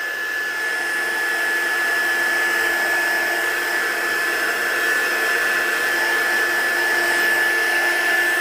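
Heat tool blowing hot air to set embossing powder on a card, a loud continuous whooshing drone with a steady high whine, alone and unbroken for the whole stretch.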